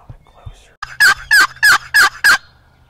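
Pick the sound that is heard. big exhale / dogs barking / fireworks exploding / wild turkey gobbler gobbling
wild turkey gobbler gobbling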